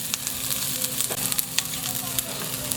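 Onions sautéing in a pan until translucent, a steady close sizzle with light crackles and occasional stirring clicks.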